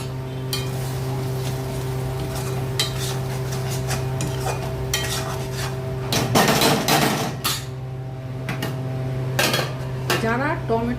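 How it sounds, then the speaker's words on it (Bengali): Spice masala stir-fried in a pot for raw banana fuluri curry, with repeated metal spoon scrapes and clanks against the pot over a steady hum, close and busy. "মশলাটাকে ভালো করে কষতে হবে"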